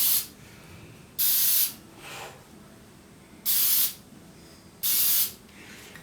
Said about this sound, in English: This is just ordinary black spray lacquer.